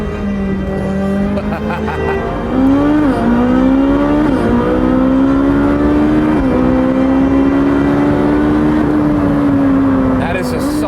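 Italian flat-plane-crank V8 in a Ford GT, revving toward 9,000 RPM, a loud close engine note that climbs in pitch in repeated pulls with a brief drop between each, while someone talks over it.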